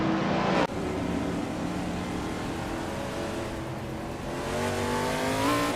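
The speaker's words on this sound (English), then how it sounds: "Runner Rampage is driving a 1964 Cheetah GT, a classic muscle car." Engine of a 1964 Cheetah GT, a classic muscle car, in a video game race, droning loud and steady with a sharp shift at the start and rising revs near the end.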